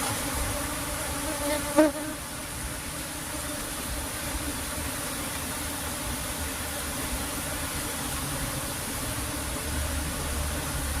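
Bees buzz continuously while they are moved from a trap box into a cultivation box, a dense, steady insect drone that holds throughout, with a single brief knock near the start.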